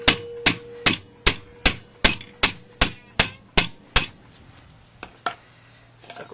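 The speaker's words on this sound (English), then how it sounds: "Crank it down good and keep smacking it." Metal hammering on the hood lock of a Jeep Wrangler YJ: about ten loud, sharp, evenly spaced clanking blows, then a few slower, more scattered strikes.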